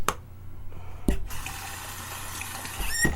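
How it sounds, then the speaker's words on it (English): Water from a tap splashes briefly into a shaving lather bowl during wet shaving, with short bursts of pouring and gentle clinks, close and fairly loud. "give it a little more water."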